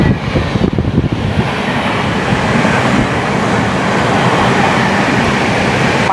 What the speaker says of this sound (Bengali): আমি খেয়ালই করিনি আমাদের ট্রেনটা রিভার্স দিয়ে যাচ্ছে